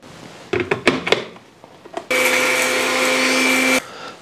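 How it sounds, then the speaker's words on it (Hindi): An electric grinder coarsely grinding fish masala spices: a few wooden knocks and clatters, then the motor whirs for nearly two seconds as a loud, steady, high-pitched whine before cutting off abruptly. "ठीक हो गया मैं दरदरा सा इसको यहाँ पे ग्राइंड करने लगा हूं"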